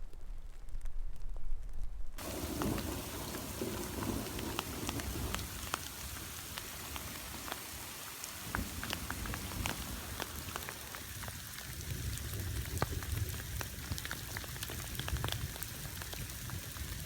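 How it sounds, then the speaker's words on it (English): Hail rattles down steadily during a mountain storm on a ridge in Colorado's Never Summer Wilderness, a dense close patter of icy pellets that starts abruptly after a quiet moment and keeps drumming on for the rest of the stretch. "we got a little hail, as you saw"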